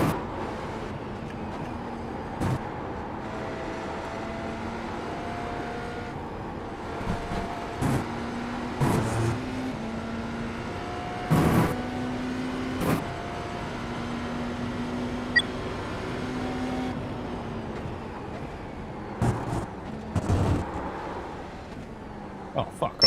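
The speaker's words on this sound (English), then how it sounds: "I don't like the noise that this car makes. It just sounds like there's keys jingling next to me." Cadillac race car in a racing video game, its engine droning steadily with rising and falling pitch as it shifts gears, with sharp clicks and bumps throughout.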